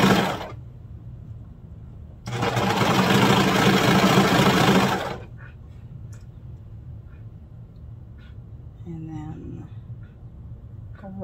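A sewing machine runs steadily for about three seconds while stitching the leg of a child's holiday pajama, stopping and starting in short bursts. Soft speech and faint ticking come before and after the run.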